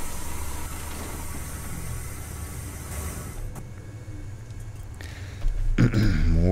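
A coach bus idles in the Fernbus Simulator driving game, giving a steady low engine rumble with a faint hiss that swells louder for the last second.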